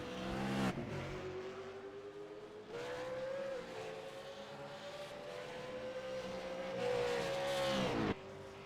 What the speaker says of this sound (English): Kurt will be really pushing the car now, just trying to get as much as he can out of this outlap